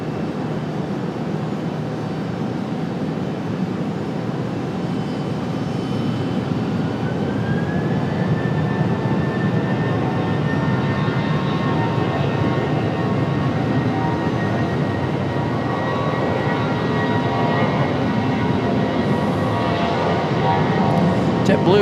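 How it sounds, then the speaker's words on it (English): A Boeing 737-800 jet airliner at Raleigh Durham International, its engines giving a steady broad roar with a rising whine, heard at a distance throughout alongside an ongoing voice. "This is our 737-800 back to Boston."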